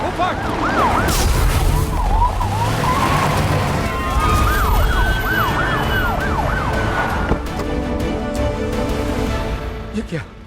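Wailing ambulance siren sweeping up and down, loud and close, over a busy rumble of motor traffic.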